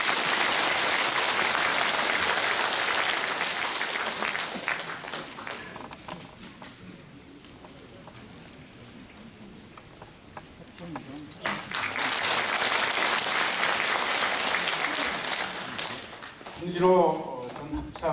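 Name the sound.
audience applause welcoming a speaker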